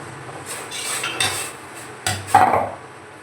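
Metal steamer vessels for idli lifted out with a cloth and set down on a kitchen counter, giving a few close clanks and scrapes, with a sharper knock near the end.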